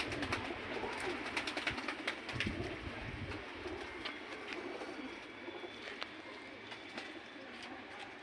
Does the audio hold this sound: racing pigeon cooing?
yes